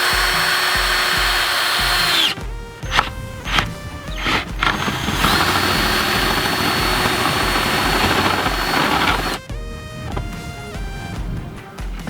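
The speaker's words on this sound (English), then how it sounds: "I'm going to drill a hole" Power drill boring a hole with a cheap step-style bit during a water-methanol injection install on a 1JZGTE-powered MKIII drift car: loud, continuous high motor whine with several brief stops and restarts, close and alone.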